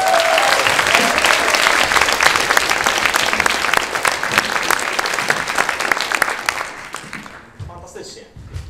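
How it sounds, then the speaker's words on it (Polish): An improv show audience applauds, loud dense clapping that carries for several seconds and then fades away toward the end, with a brief voice near the start. "oklaski."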